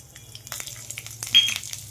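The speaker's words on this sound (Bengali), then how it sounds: "আমার তেলটা গরম হয়ে গেছে, এর মধ্যে দিয়ে দিচ্ছি আমি সর্ষে আর 5 ফোড়ন" Mustard seeds and five-spice (panch phoron) crackle and sizzle in hot oil: a light, close, uneven spitting with a few sharper pops, short and alone.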